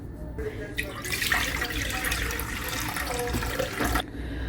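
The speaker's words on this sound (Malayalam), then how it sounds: "ഇനി ഇതിലേക്ക് നമുക്ക് നിറച്ച് വെള്ളം ഒഴിച്ചു കൊടുക്കാം" Water poured into a clay cooking pot being seasoned, a steady close gushing pour that starts abruptly and stops just as suddenly after about three seconds.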